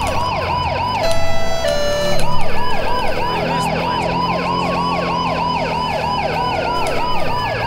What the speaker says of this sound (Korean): 사이렌 좀 크게 틀어드리고.